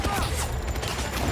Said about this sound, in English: What the hell is the dev shooting at?